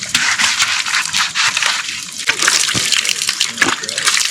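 Water runs steadily from a tap in a tea garden house in Assam, a continuous splashing hiss with a few clunks and crackles, fairly close and loud.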